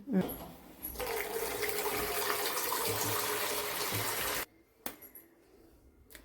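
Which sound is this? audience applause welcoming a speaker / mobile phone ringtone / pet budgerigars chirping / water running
water running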